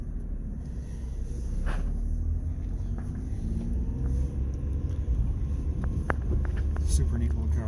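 Small hot hatch car driving with a steady low engine rumble and road noise from inside the cabin, some wind buffeting, and a few light knocks and clicks over the drone.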